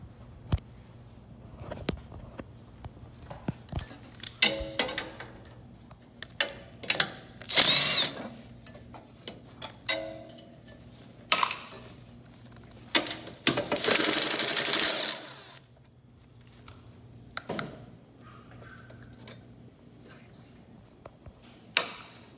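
A ratchet loosens and removes 3/8 bolts on a Gravely ZT mower while its handbrake switch is being changed, giving bursts of rapid clicking and a couple of longer whirring runs amid clanks, close by, with pauses between.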